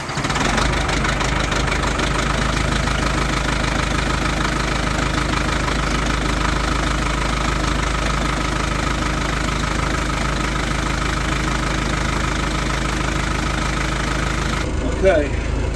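A John Deere 310D backhoe engine, cold and just started after alternator and battery repair, runs at a steady, loud diesel idle with a constant low rumble and knock, unchanging throughout.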